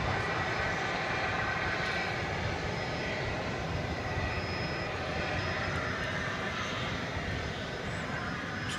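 A jet airliner taxis and turns near the top of runway 18 left at DFW Airport, making a steady, continuous engine roar at a moderate distance, heard alone for the whole stretch.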